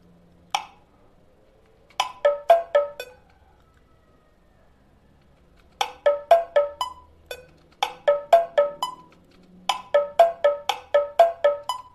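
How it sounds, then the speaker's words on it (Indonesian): Quick bursts of crisp, high slap-like keplak kendang drum strokes from a Sundanese drum sample, in fast clustered flurries separated by short pauses, close and dry. "Dan ini suara keplaknya."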